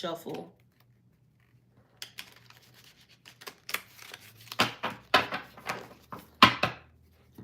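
Soft, irregular riffling and tapping of cards being shuffled, in short bursts separated by quiet pauses, close and fairly faint.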